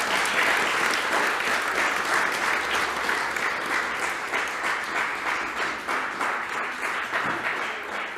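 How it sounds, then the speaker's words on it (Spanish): A church congregation applauding during a service, dense sustained clapping from many hands that fills the room, steady and moderately loud throughout with slight dips in intensity. "Démosle un fuerte aplauso al Señor de nuevo."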